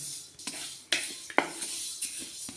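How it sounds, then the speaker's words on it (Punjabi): A utensil scrapes and taps against a pan while sesame seeds are stirred and roasted for a Punjabi til bugga sweet, giving intermittent clinks and rasping strokes at close range. "ਤਿਲਾਂ ਨੂੰ ਆਪਾਂ ਲਗਾਤਾਰ ਹਿਲਾਈ ਜਾਣਾ ਹੈ"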